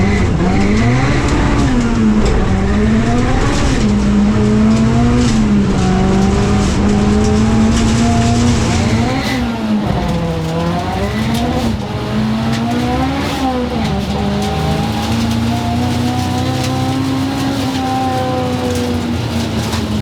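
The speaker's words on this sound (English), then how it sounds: "Honda Civic EK with a K20 and a big fat turbo" A Honda Civic EK with a K20 engine and a large turbo roars down a drag strip, its loud, sustained engine note climbing through repeated gear changes with little else audible.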